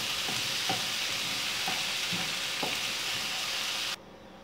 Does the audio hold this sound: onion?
yes